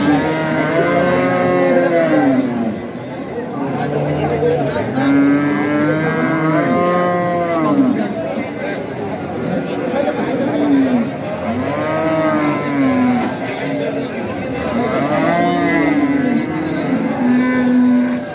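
Cows moo repeatedly and loudly at a cattle market in Dinajpur, several dairy cows and calves overlapping in long drawn-out calls, amid a busy outdoor crowd murmur.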